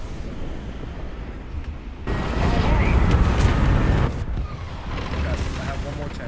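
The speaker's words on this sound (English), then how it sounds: "Artillery strike in your sector!" An artillery strike in War Thunder produces a loud rumbling barrage of explosions that swells suddenly, holds for about two seconds, then drops back to a lower roar with further distant booms.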